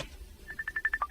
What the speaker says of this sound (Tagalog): adaw mauawag iti cellphone ko